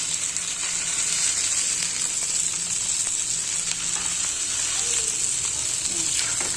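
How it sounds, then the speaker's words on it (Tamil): Goat brain fries in oil in a pan on a stove. It gives a steady, close hiss and crackle that holds the whole time, with a few soft clinks, and a voice speaks quietly over it. "கொஞ்சம் சுறு சவுண்ட் வருது"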